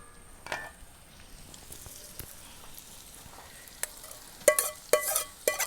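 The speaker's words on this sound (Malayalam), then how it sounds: "ഇപ്പോൾ ഈ ചിക്കൻ വറുക്കാൻ വേണ്ടി ഞാൻ എടുത്ത മസാലയും ഞാൻ ഇതിനകത്ത് ഇടുവാണ്" Masala spices for a chicken curry are stirred into a pan. A quiet, low sizzle gives way to sharper spoon scrapes and clatters near the end.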